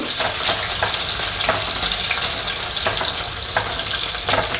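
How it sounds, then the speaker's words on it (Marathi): Crushed garlic cloves sizzle steadily in a hot pan while being browned for a mixed leafy-greens dish, a dense continuous frying hiss with faint stirring scrapes and no talking. "ते मी ह्याच्यामध्ये टाकते थोडीशी ब्राऊन पर लसूण परतून घ्यायची"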